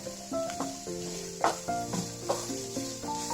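Food frying in a pan and being stirred, a quiet sizzle broken by a few scraping strokes of a spoon, close and fairly faint.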